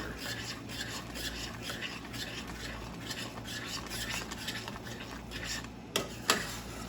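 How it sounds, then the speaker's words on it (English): A spoon works butter into a pan of dill risotto, giving a continuous soft scraping and rubbing of the stir over a low background hum, with a couple of sharper clinks near the end. "the rest of our butter into there. Give that a good stir."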